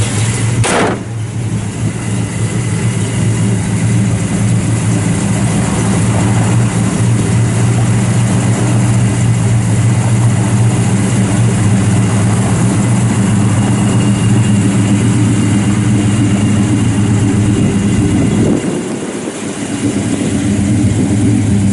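A 1973 Plymouth Duster 340 V8 with dual exhaust idles steadily and loud up close, a deep rumbling drone holding for about twenty seconds with one brief dip near the end.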